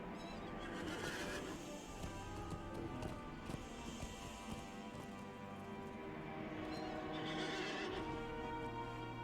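Horse neighing and hooves clip-clopping in Lord of the Rings Online, a steady game soundscape with rain-like hiss and music underneath, the whinnies rising faintly in the mix.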